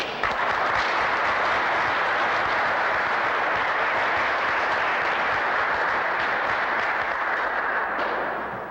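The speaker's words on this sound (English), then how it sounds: "hopefully you give him a round of applause" Sustained audience applause, dense and even, filling the whole stretch at a steady loud level before easing slightly at the end, with no talk over it.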